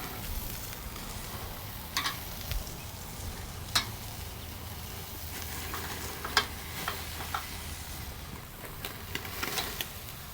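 Picanha steaks sizzle on a Slow 'N Sear travel kettle grill just after being flipped, a low steady hiss broken by a few sharp ticks and pops, close and alone.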